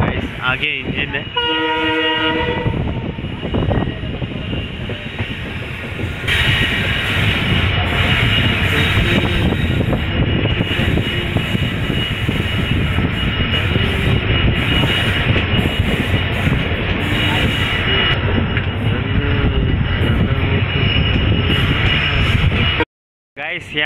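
Train running toward Kamakhya with the locomotive up ahead: a loud horn blast opens, then a steady rumble of wheels and rattling carriages continues close by for some twenty seconds before cutting out near the end.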